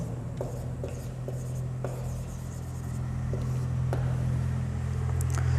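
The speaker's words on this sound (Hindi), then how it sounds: "अब इसको एक बार हम लिख रहे हैं।" Pen or chalk writing out a math problem, faint strokes and taps over a steady low hum in a room.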